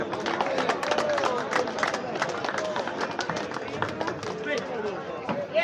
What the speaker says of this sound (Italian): Facciamo sentire l'applauso di Lanciano